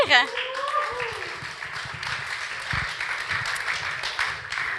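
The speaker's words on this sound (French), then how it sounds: "Vous pouvez l'applaudir." A church congregation claps steadily in a broad, even patter welcoming a speaker after a brief voice at the start, continuing without letup.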